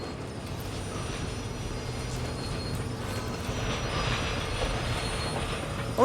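A train passes in the stealth video game Dishonored 2, a steady rumbling roll of rail cars with faint wheel squeal that holds at a constant level and swells slightly toward the end, with no talking.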